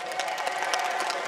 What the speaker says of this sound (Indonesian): 1 juta, tepuk tangan dong